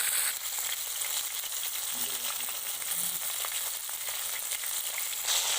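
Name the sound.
fish frying in a pan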